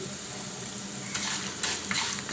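Cashew nuts frying in hot oil with mustard seeds in a pan for ragi upma, giving a steady soft sizzle with a few brief crackles and light stirring clinks.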